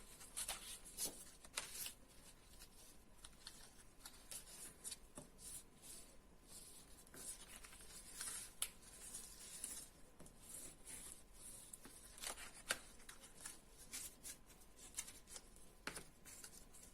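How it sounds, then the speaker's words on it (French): Paper being creased and folded by hand while making a tissue box, with soft scattered rubbing and crisp sharp snaps recurring irregularly throughout, close and fairly quiet. "nous allons donc marquer nos plis."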